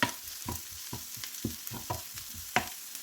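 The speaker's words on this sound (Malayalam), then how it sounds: "എണ്ണ ചൂടായി വരുന്നുണ്ട് അതിലേക്ക് നമുക്ക് ഒരു ഉള്ളി ഒരു വലിയ സൈസ് ഉള്ളി കട്ട് ചെയ്തതാണ് അത് ഇട്ട് കൊടുക്കാം രണ്ട് പച്ചമുളക് ഇട്ട് കൊടുക്കാം" Chopped large onion and two green chillies sautéing in hot oil for an egg curry, with a steady close sizzle and frying crackle broken by regular stirring scrapes, no voices.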